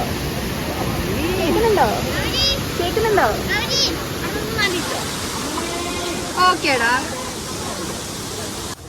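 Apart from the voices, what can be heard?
waterfall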